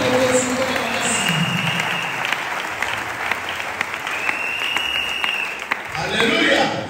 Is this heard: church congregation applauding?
yes